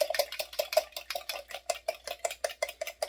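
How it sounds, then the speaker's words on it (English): Sugar stirred into an egg and yeast bread mixture in a bowl, a fast steady run of close clinking and scraping strokes from a utensil against the dish. "Stir that in."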